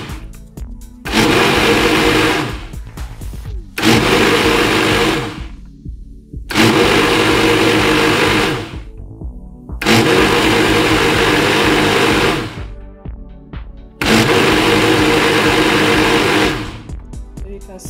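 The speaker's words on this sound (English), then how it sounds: "I'll go ahead now and blend it to give it a good mix" Blender whirring through an achu soup mixture in five loud bursts of a few seconds each, separated by short pauses with faint clatter.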